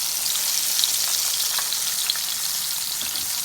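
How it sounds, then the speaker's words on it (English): Shrimp sizzle and crackle steadily in hot grease, a bright constant hiss dotted with small pops, close and without talk. "You can hear the sizzle of the grease and the shrimp in there"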